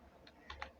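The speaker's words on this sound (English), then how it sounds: "I want to type about the course" A few faint, sparse key presses on a computer keyboard, soft isolated clicks heard alone against a quiet background.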